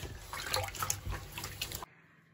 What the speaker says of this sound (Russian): Чистой мочалкой хорошо промыть контейнер.